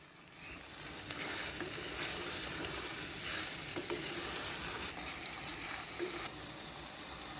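Chicken frying in a pan with ginger paste, giving a steady, fairly faint sizzle with occasional light stirring sounds, close by.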